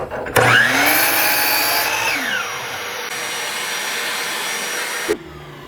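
A miter saw whines up and cuts a small piece of 1x4 board while a shop vacuum roars alongside. The saw winds down after about two seconds, and the vacuum keeps running for a few more seconds before switching off with a thump.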